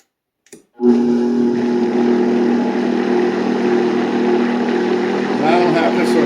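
An electric mixer starts after a brief clunk and whirs steadily at high speed through coconut pie batter for several seconds, a loud, even motor drone with a slight change near the end.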